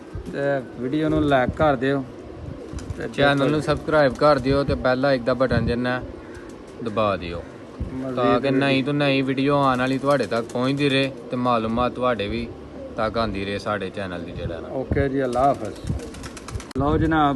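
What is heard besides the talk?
pigeons cooing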